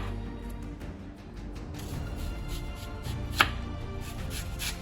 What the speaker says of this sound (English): We actually cut our rings in half for the slices, just to make them a little smaller.